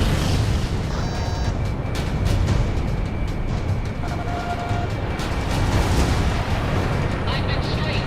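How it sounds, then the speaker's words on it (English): Cluster bomblets exploding in Ace Combat 6, a sustained, rumbling wash of overlapping booms and blasts, loud and dense throughout, with radio chatter and voices mixed in. "Laying down bomblets."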